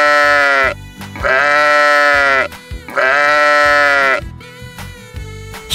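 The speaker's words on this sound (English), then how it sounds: "Sheep." A sheep bleats loudly and close by in three long, wavering calls separated by short pauses, with no talk.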